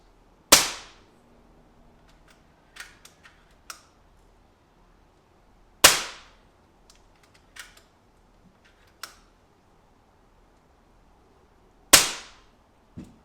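An FX Dreamline air rifle fires three sharp, loud shots into a box at even intervals about six seconds apart, each followed by faint mechanical clicks of handling.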